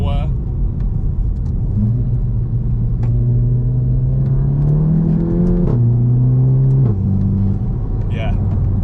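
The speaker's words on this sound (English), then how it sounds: "I would really recommend the Remus, because of the fart sounds that you get from it" Golf GTI MK7.5 fitted with a Remus exhaust, revving up and down in a steady loud drone with rising and falling pitch and a few crackles, heard close up with people talking over it.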